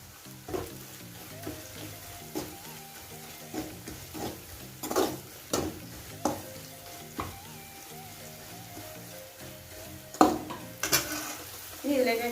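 Coriander powder and other spices roast in a pan for a kadachakka (breadfruit) roast, heard as regular scraping stirs with a spoon and clinks on the pan over a faint sizzle, close by.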